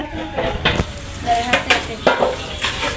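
Food is stirred in a cooking pan, a spatula scraping and clinking against the metal in short strokes over a soft sizzle, close by, with faint voices in the background.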